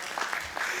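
Brief applause from a fintech summit audience after a startup demo, a short burst of scattered clapping at moderate distance.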